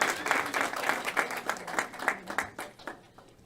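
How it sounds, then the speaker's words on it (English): An audience at a District of Columbia Office on African Affairs open house claps for the staff, with distinct individual claps that thin out and fade toward the end. "Give them a round of applause."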